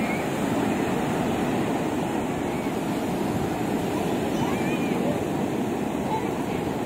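Sea waves on a beach at Odessa on the Black Sea, a steady broadband wash of surf with wind noise, continuous and loud throughout with no distinct breaks.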